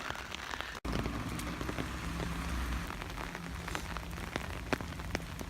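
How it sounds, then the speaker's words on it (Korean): Rain falls steadily around someone walking outdoors in Amsterdam, making a constant close patter with scattered individual drops tapping on nearby surfaces. "비가 오고 있고요."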